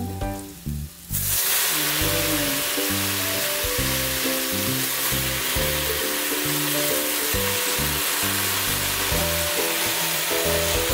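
Water spinach and garlic sizzle loudly and steadily in a hot pan, a dense continuous frying hiss that starts after a brief quieter moment and runs on with no talking.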